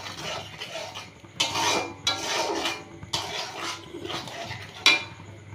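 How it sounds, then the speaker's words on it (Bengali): Spices and mustard paste fried and stirred in a pan, with repeated bursts of rasping scrapes from a spoon against the metal, close and fairly loud over a low background sizzle, no voices. "সর্ষে বাটাটা দিয়ে দেবো, দিয়ে ভালো করে কষিয়ে নিয়ে"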